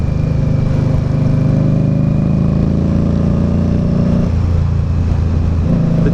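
An Indian Scout Bobber motorcycle engine with a Dynojet Power Vision flash rumbles loudly and close, its steady drone dropping in pitch as the rider shifts gears partway through, then settling again.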